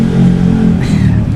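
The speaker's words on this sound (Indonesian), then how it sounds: "Udah jam berapa masih geber motor?" A motorcycle revs outside, a loud, steady low engine drone with a brief rising whine partway through, and no voices over it.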